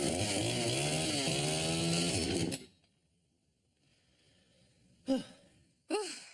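Chainsaw running against protective pants, a loud rough buzzing roar for about two and a half seconds that cuts off abruptly. Breathy gasps or sighs follow in the quiet afterward.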